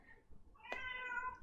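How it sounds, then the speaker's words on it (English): A cat meows once, fairly close and clear, a drawn-out tonal call that starts abruptly and holds for most of a second over a quiet room background with no talking. "cat, you're being extra noisy"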